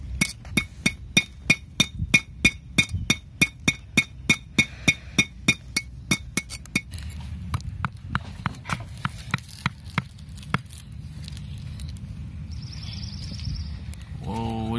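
Sharp, regular taps of a small hammer chipping at a dinosaur dig kit, quick and evenly spaced at first, then slower and sparser, close by.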